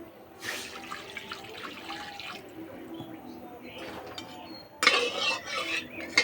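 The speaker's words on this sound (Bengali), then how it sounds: "কড়াই দেব জল" Water splashes as it is poured into a wok while rice-flour pitha is made, a close gushing rush for about two seconds, followed by quieter kitchen sounds and a sudden metallic clatter.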